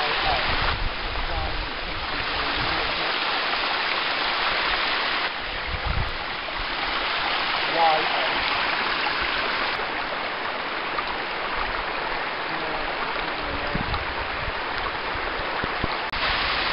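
Mountain spring water flowing near the summit path of Ben Nevis, a steady close rush and trickle of water running continuously, with faint handling thumps and no clear talk.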